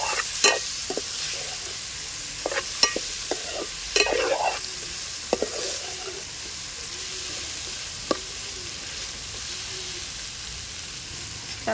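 A spoon stirs raw banana (aratikaya) curry ingredients with tomato in oil in a pan, giving soft scraping strokes and intermittent clicks over a faint sizzle, fairly quiet and without talk.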